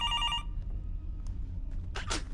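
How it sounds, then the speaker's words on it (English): An old telephone in a horror video game gives a short, bright electronic ring that cuts off abruptly, followed by near silence, a few faint clicks and a brief burst of noise. "Who's calling? Why is the phone suddenly working now?"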